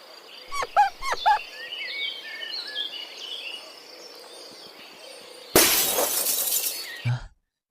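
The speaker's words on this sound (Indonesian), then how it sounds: "Aduh, jendelanya pecah." A glass window bursts into a loud crashing shatter after several seconds of quiet ambience with faint birdsong, the bright breaking noise lasting about a second and a half before cutting off, with no talking.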